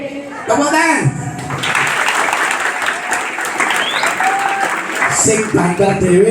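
A crowd at a Monday school flag ceremony in Indonesia breaks into steady, loud applause that fills several seconds, with a voice speaking briefly before it starts and again near the end.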